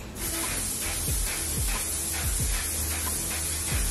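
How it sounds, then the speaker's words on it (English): Makeup setting spray mists close by in a steady, soft, broadband hiss lasting several seconds. Faint light taps and clicks sound underneath, and no one speaks. "She does go in with a setting spray to kind of like blend the powders out a little bit"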